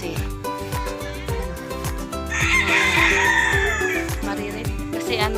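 Chickens on a rural farm, with a rooster crowing loudly and close over steady clucking from the flock, continuous and lively throughout with faint talk underneath.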